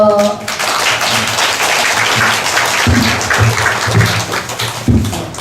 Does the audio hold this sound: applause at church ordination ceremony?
yes